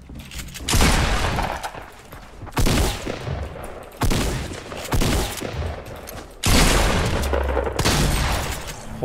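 Rapid gunfire in a building shooter game, loud dense bursts of repeated shots in several long volleys separated by brief pauses.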